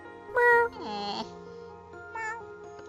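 Little grey kitten in the video game Pyrite Heart giving a few short, high meows in quick succession, close and clear over a quiet game background.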